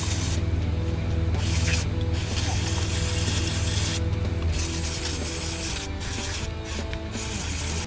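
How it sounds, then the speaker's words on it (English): Old gasket material is scraped off a 52cc line trimmer motor with continuous close, rasping strokes, interrupted by several brief pauses, and no voices. "We've now scraped off all the old gasket and it is clear."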